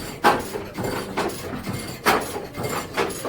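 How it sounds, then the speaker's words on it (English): A 1940s weaving loom making cabuya sacks in Manta, Ecuador, thumps and clacks in a steady rhythm about once a second, moderately close, with a busy workshop rumble underneath. "you can hear the weaving loom going in the background"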